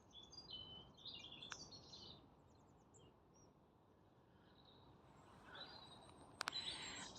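Small birds chirp and trill in short bursts outdoors during a freezing winter walk, faint and at a distance over a soft wind hiss, with a couple of sharper nearby calls toward the end.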